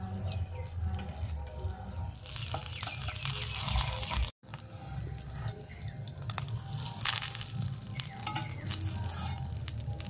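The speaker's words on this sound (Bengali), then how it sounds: "এবার আমি ওপরের পাশটাও ভেজে নেব।" A semolina snack fries in oil in a pan after being flipped to cook the second side, producing a continuous bubbling sizzle with crackles and a brief cutout partway through.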